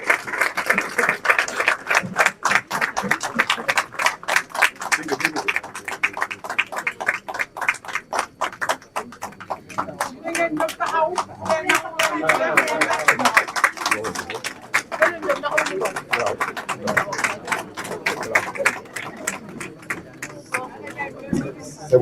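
Sustained clapping and approving noise from a party assembly's audience as the national executive committee is installed, steady and dense throughout with crowd babble mixed in.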